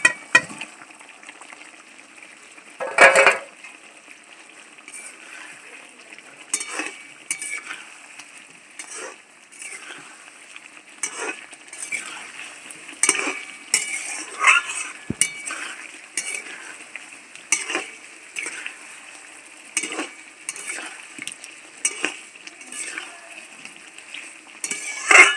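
Fried potatoes stirred into sizzling spice masala for Kashmiri aloo dum, with a soft frying hiss under repeated scrapes and clinks of a spoon against the pan, close and intermittent.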